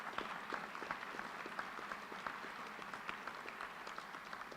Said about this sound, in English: Let's give one final round of applause for the schools and all of the students.